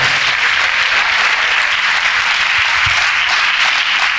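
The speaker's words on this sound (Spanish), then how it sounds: "Denle un fuerte aplauso al Señor, aleluya." Loud, sustained applause from a church congregation fills the whole stretch, a dense, even roar of clapping.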